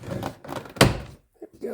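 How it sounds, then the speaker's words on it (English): Plastic door panel clip on a Ford Mustang Mach-E popping loose, a single sharp close thunk during trim removal, with talk before and after. "pull from the cup, the door cup, and it should pop out."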